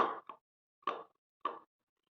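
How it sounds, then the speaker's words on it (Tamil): Gram flour batter for egg bonda, with salt and baking soda, is stirred in a bowl, giving three separate short, soft scraping plops with quiet gaps between them. "இப்போ நம்ம இதை நல்லா மிக்ஸ் பண்ணிக்கலாம்."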